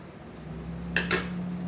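A spoon scoops meringue mix onto a tray, giving two quick, light metallic clinks close together over a low steady hum.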